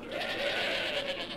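A Minecraft sheep with a texture pack gives one drawn-out, wavering bleat, close and clear, lasting the whole short moment.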